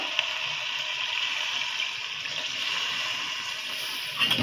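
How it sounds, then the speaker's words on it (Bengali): Water pours in a steady, splashy stream for several seconds, close and moderately loud, ending with a couple of light knocks. "এটা দুইটা আমি পানি দিয়ে দিব"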